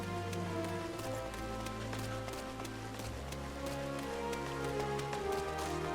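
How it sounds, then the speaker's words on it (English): Rain patters steadily with scattered drop ticks in Final Fantasy XIV, mixed under sustained, droning game music. "Oh, it's raining."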